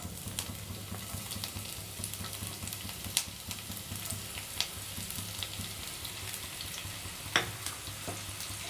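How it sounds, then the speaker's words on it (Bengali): Chopped onion fries in hot oil with a steady, close sizzle and crackle, punctuated by a few sharp pops and scrapes of a utensil in the pan. "এবার ওর মধ্যে দিয়ে দিচ্ছি আমি পেঁয়াজ কুচি"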